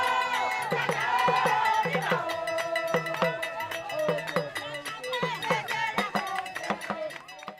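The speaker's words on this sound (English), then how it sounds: "The beat of a talking drum and a cowbell opens a circle in the crowd, which then quickly fills with dancers and song" A talking drum and a cowbell beat out a rhythm, with bending drum pitches and a bright metallic clank, over a lively crowd and voices opening a dancing circle.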